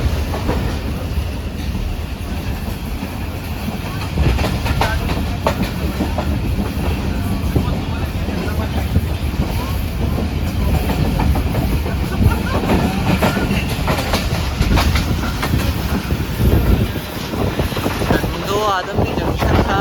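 Shalimar Express train moving slowly through a 30 caution zone near Tandwadam railway station, heard from on board as a steady rumble with soft clickety-clack and wind noise, with faint voices in the background.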